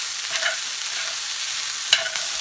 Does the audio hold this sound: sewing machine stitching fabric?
no